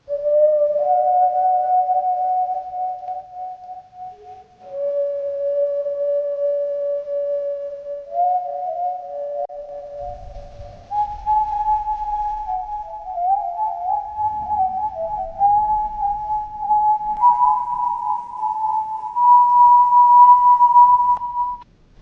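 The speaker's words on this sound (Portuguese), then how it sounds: "E outra vez aquele assovio, mas dessa vez próximo de mim, alto, nítido, como se estivesse assoprando o meu ouvido." Eerie whistling, loud and close, holds long sustained notes that slowly step and glide upward over about twenty seconds, with a faint low rumble partway through.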